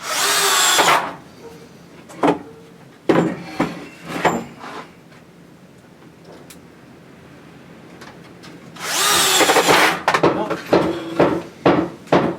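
A power screwdriver drives screws into a wooden egg tray in two loud close bursts of whirring, separated by knocks, handling clatter and a quiet pause, with no voices.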